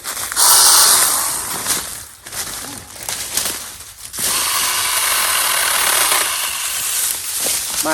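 A SeeSii 6-inch battery mini chainsaw buzzes loudly as it bites into a thicker log, whining in two long cutting bursts separated by a brief lull, with a high tonal hum riding over the motor.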